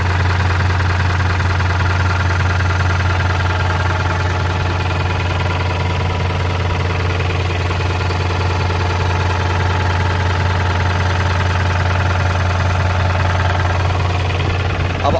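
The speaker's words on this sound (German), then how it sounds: "und uns den Motor anhören." Older bus engine idling steadily with the rear engine hatch open, a loud continuous low rumble with a knocking mechanical chatter and vibration throughout, no talk.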